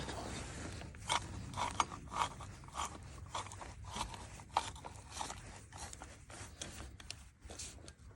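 Ratcheting tool works engine bolts on a Honda CB200, giving a run of close, irregular mechanical clicks and ratchet snaps at moderate to low level with faint handling noise between them.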